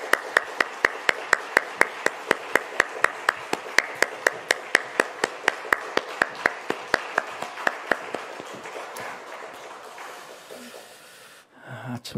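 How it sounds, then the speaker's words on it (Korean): Church congregation at a family dawn prayer service claps in firm unison, around three dozen evenly spaced beats that slow and fade away near the end. "우리 다시 한번 박수하겠습니다"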